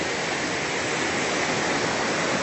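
A giant waterfall about 150 feet high at Cascadas del Obraje near Ocuilan de Arteaga roars in a steady, loud, unbroken rush of falling water that fills the whole clip.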